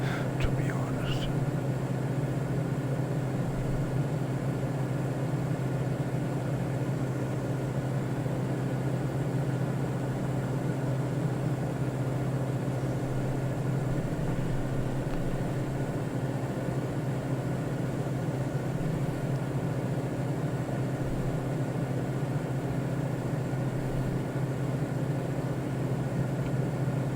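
Steady airplane engine drone inside Microsoft Flight Simulator 2024, a constant low hum and broad rushing noise throughout, with faint speech-like murmur underneath.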